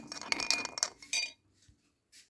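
A spoon clinks and scrapes against a bowl in quick, bright taps while stirring gelatin into water, then stops, leaving near silence with one faint clink at the end.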